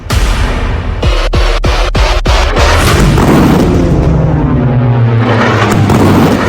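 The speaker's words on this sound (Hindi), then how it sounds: "गाजा में गिरते बम," Bombs explode in Gaza as very loud, distorted deep booms, with a rapid run of sharp blasts followed by a sustained rumbling roar that fills the whole stretch.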